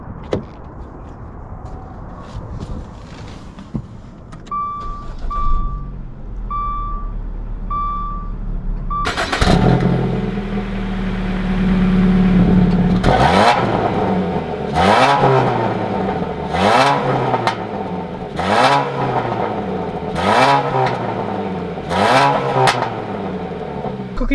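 Dodge Dart GT starting off and pulling away, with a steady engine drone rising in pitch through repeated gear changes, loud and close; several chime-like beeps sound before the car moves.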